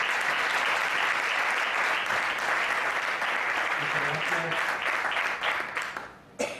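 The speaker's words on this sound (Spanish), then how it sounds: "Por favor, un aplauso muy fuerte para don Alejandro Almanza Hernández." An audience applauds a guest at a book presentation at Casa Colón in Huelva, producing a loud, dense wash of clapping that holds steady before tapering off, with a few voices murmuring underneath.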